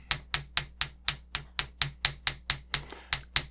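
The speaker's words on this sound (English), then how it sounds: "if you've got a hammer and you like to hit things, this is a great opportunity to put it to work." A hammer strikes wire laid on a metal block, about fifteen sharp, ringing metallic taps in a steady, even rhythm, close and alone over a faint low hum.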